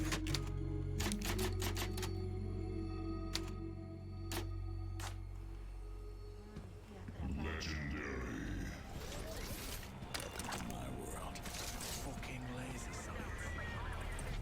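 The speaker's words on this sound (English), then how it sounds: "Oh, hey, a typewriter." Typewriter in the video game Resident Evil 4: sharp, evenly spaced mechanical clacks at first, then a denser rattling passage of game sound effects, fairly quiet overall, with a voice talking over parts of it.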